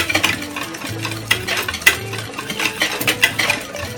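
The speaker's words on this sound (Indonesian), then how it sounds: "Kita aduk lagi." A spoon stirs martabak manis batter with half a teaspoon of vanilla added, giving rapid close scraping and knocking strokes against the bowl in an uneven rhythm, with no talking.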